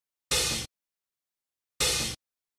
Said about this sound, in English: Down here we have the open hi-hat